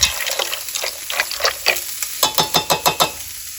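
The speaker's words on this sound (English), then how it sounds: "I'm adding in our stock" Vegetable stock hits a hot pan while cooking lemon asparagus pasta, giving a bright hissing sizzle, then a quick run of rhythmic spoon strokes through the liquid, close by.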